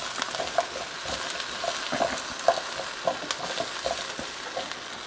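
Cube steaks sizzling in a hot pan, a steady close hiss of frying with irregular soft pops and crackles spread throughout, with no voices.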